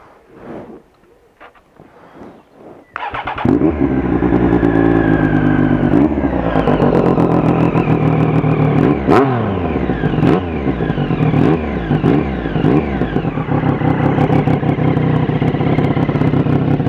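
A motorcycle engine fires up after a few seconds of quiet handling noise, then idles loudly and close with repeated revving bursts and clattering mechanical detail throughout.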